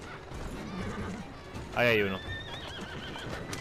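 A carriage horse in the video game Assassin's Creed Syndicate gives one loud, close whinny midway through, over soft hoofbeats and game ambience, while someone speaks briefly.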